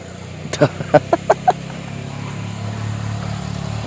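A low motorcycle engine idles and rumbles steadily, with a few short bursts of voices near the start.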